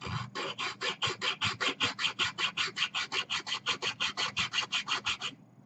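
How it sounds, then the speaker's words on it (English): A small hacksaw cuts with a quick, even rhythm of about two dozen rasping back-and-forth strokes, close and moderately loud, ending abruptly. "then you need a small hacksaw to"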